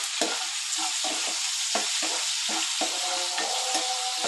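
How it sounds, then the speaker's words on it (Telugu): Chopped onion with salt sizzles steadily in a hot pan while being stirred, with repeated scraping strokes over the constant close frying hiss and no talking. "ఇలా చేసుకున్న తర్వాత కొంచెం దీనిలో తొందరగా మగ్గాలని కొంచెం ఎర్రగడ్డ, ఉప్పు వేసుకోవచ్చు."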